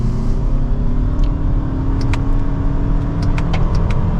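A 2025 Toyota Camry XSE in sport mode, second gear, accelerates at full throttle, its engine droning steadily and loudly from inside the cabin with a constant road rumble beneath.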